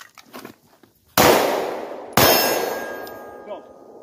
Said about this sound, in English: Let's go to some live fire now.